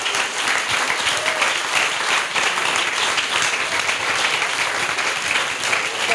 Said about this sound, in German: Für die einen herzlichen Applaus.